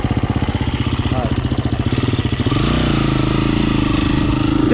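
Motorcycle engine idling at an off-road motorcycle riding area, a steady close pulsing throb that shifts to a smoother drone midway, with talk mixed in.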